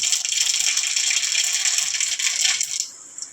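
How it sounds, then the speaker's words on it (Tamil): Mustard seeds splutter and pop in hot oil in a kadai, a dense crackling sizzle close up that fades away after about three seconds. "கடாய் வச்சு கடாயில் எண்ணெய் ஊற்றிட்டு இப்போ கடுகு போட்டோம். கடுகு நல்லா பொரிஞ்சிச்சு."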